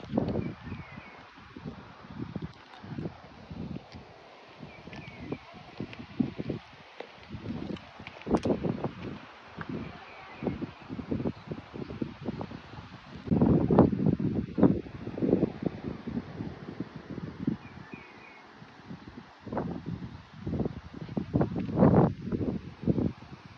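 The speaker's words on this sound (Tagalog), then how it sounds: "yung hangin lang, yung dagat" Gusty wind buffets the microphone in uneven bursts over a low, washing roar of sea at Pacol View, Santa Magdalena, rising and falling with no one talking.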